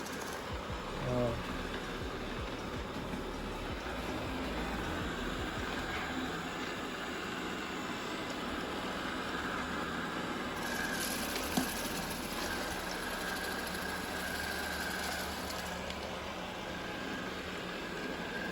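A Utlenic D5s Pro robot vacuum cleaner runs with a steady, fairly quiet mechanical whir that barely changes over a long stretch, while a person talks over it.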